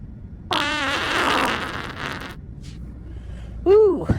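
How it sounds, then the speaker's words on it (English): A deliberate fart, a rippling, buzzy burst lasting about two seconds, followed by a short, pitched squeak a moment later, heard close up. "Hold on, I gotta fart. Listen to this."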